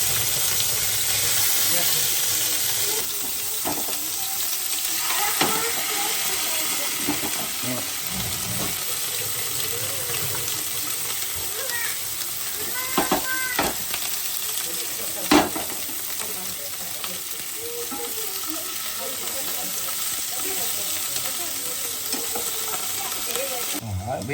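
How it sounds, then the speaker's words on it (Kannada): Prawns fry in hot oil for a Bengal-style prawn curry, giving a steady loud sizzle throughout with occasional stirring clinks and scrapes close by, and no clear talk over it. "ಎಟ್ಟಿ ಫ್ರೈ ಇದೆ ಎಣ್ಣೆ ಬೆಚ್ಚಂಡು ಇತ್ತೆ"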